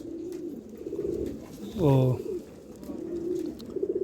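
A prized Rampuri pigeon coos in a short burst of low, throaty calls close by, with someone speaking briefly before and after.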